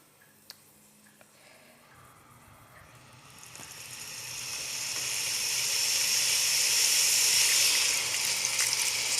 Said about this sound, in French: je vais ajouter un tout petit peu d'eau pour que je puisse mijoter un peu mes légumes